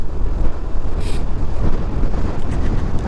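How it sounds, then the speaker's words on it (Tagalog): Strong wind buffeting the microphone while riding a motorcycle on a long-distance trip through the Philippines, a loud, continuous, close rumbling roar with no pauses. "lakas ng hangin."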